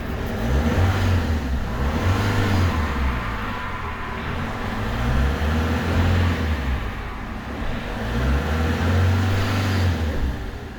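A faulty Peugeot 307 2.0 HDI diesel with an injector fault is revved gently in repeated cycles, the engine note rising and falling roughly every three seconds, close and fairly loud, with no speech.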